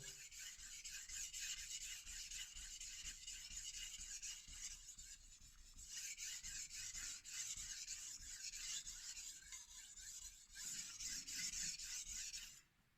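A very dull knife is drawn across a 400 grit Naniwa Chosera whetstone, making a faint, continuous gritty rasping that swells and eases with each stroke, close up with no voices.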